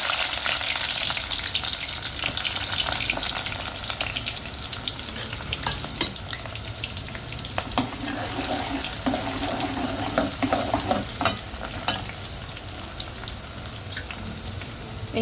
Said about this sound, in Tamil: இதுக்கு வெறும் தேங்காய் எண்ணெய் மட்டும் ஊற்றி பட்டை கிராம்பு போட்டுருவோம்.